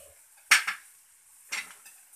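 A spoon scraping and clinking against a pan while chilli powder, garam masala and cumin powder are mixed into a potato filling, two distinct metallic scrape-and-knock strokes about a second apart, close and clear over quiet background.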